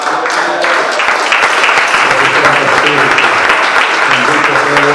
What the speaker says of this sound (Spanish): Den un aplauso al Padre,